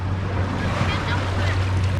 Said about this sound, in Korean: 우와 파도다